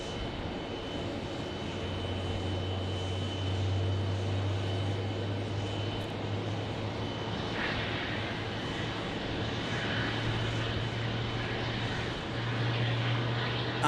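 Boeing 777-200 airliner at Phoenix Sky Harbor airport, a steady distant engine roar that holds evenly throughout with a low droning hum underneath, no voices.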